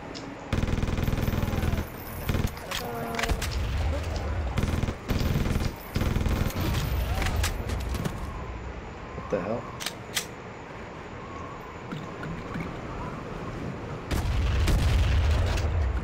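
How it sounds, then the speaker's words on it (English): Gunfire from a gun in the video game Bear Party Adventure, a burst of sharp broadband shots near the start, then scattered impacts and rumbling game noise, with a loud low rumble returning at the end. "This gun does not sound how it looks."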